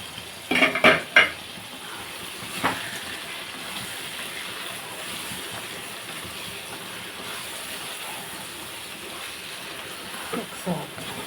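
A spoon clatters against a pot a few times as an eggplant and raw prawn curry is stirred, followed by a low steady simmering hiss and a couple of faint clinks near the end.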